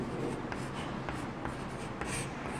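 Continuous scratchy writing on a board during a maths lesson on exponents and radicals, a steady dry rubbing texture with short strokes and brief pauses, close and moderately loud.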